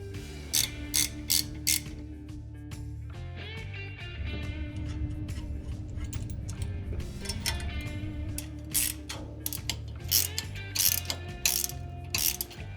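Rapid ratchet clicks tightening the factory bolts on a lower brake proportion valve bracket of a Nissan GQ Patrol, coming in several quick bursts with short pauses between them, close and clear.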